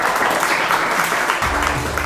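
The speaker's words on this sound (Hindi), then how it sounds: "जय श्री के लिए बात तालियां हो जाए" Applause from a school quiz audience for a class 4 contestant, a steady broadband wash of clapping lasting about two seconds, with a brief low tone entering near the end.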